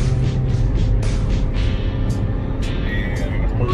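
A 2013 Chevrolet Captiva Sport pulls onto a highway, heard from inside as a loud, steady low engine and road rumble with wind noise and someone speaking over it.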